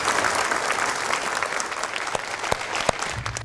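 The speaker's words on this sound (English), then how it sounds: "Let's give a round of applause for Danica." An audience applauds at a televised talk-show discussion, a dense, sustained round of clapping with a few sharper individual claps standing out near the end.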